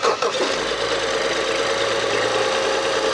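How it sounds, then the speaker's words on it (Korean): A BMW 5GT 535i engine with low oil pressure and an internal oil leak turns over and settles into a steady, loud idle, its broadband engine roar continuous right from a brief starting burst. "시동 한번."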